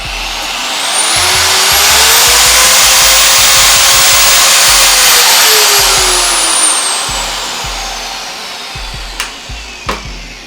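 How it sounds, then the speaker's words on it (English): A 2400-watt high-power rotary car polisher runs loud and close with a steady high-pitched whine that rises and falls with speed changes, then spins down, ending with a few clicks and knocks. "I'm going to plug it for you so that you can listen the sound about this rotary machine as well."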